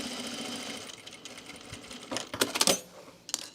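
Sewing machine running a basting seam on a blazer at a quarter inch, a soft steady hum that ends in a few louder clunks and rattles near the end, close by and without speech.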